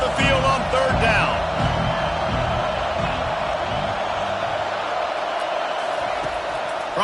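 A home crowd in the NCAA 25 football video game roars steadily as the defense tries to get off the field on third down, a dense, continuous wall of cheering with no pauses.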